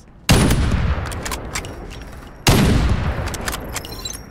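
Gunfire in the battle royale game Farlight 84: two loud, sharp bursts of shooting, each followed by a decaying rattle and scattered shots, close and dominant with no talk.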